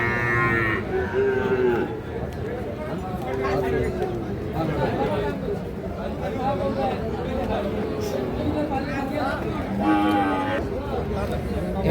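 Sahiwal bull calves about five to six months old at a village cattle market, with repeated close and distant moos rising over a constant hubbub of crowd chatter and nearby talking.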